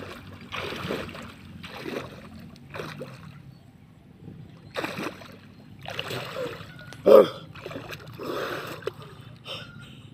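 Water splashes in bursts as people bathe alongside water buffaloes at a beach resort in Daanbantayan, Cebu, with a few sloshing surges spread through the scene and a brief loud splash near the end.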